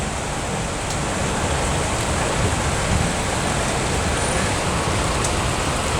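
Heavy rain pouring over Bangkok during the rainy season, a dense, constant roar of falling water with a broad hiss and no breaks, close and loud throughout.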